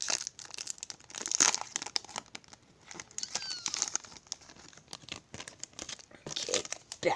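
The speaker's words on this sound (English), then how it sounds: "I'm scared to open this pack." A Pokemon Sun and Moon Burning Shadows card pack is torn open in a series of sharp foil crinkles and rips. Quieter handling fills the gaps between the bursts, close to the microphone.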